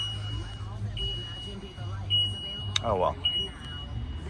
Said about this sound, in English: That's the alarms because the swivel seats are turned around